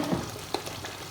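Stock poured into a sizzling jollof rice sauce base in a pot, a brief steady frying hiss with a small splash, close and fairly quiet.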